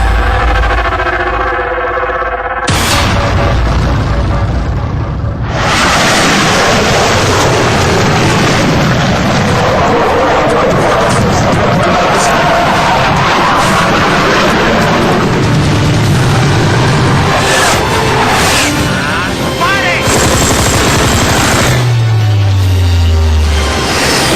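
A Rafale fighter jet heard from inside the cockpit gives a loud, dense, sustained roar that fills the whole stretch, with shifting rumbles and a falling tone near the end.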